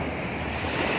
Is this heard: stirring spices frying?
no